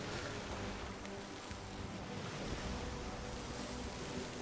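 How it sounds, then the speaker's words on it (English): Rough ocean waves in Sea of Thieves, a continuous broad wash of surf and wind roaring steadily around a ship with no pauses. "These waves are brutal."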